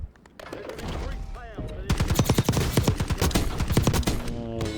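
Rapid Model L rifle fire in Warzone, a first-person shooter game: a short burst, then a long sustained string of loud, close, crackling shots in quick rhythm.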